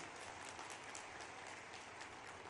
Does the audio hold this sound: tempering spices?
no